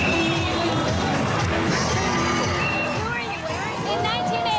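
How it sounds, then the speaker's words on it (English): A large outdoor crowd at Toronto's 25th annual Pride Day celebration cheers and whoops loudly and steadily, with a dense babble of voices, shouts and whistles throughout. "I love the crowd."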